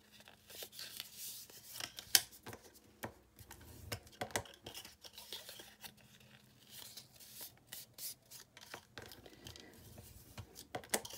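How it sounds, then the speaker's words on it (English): Cardstock paper pieces for a mini album are folded by hand, giving soft crinkling, rubbing and creasing sounds with scattered sharp snaps, close and fairly quiet. "so just fold all these"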